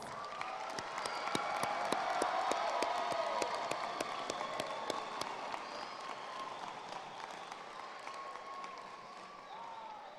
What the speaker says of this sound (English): Let's give our amazing graduates one more huge round of applause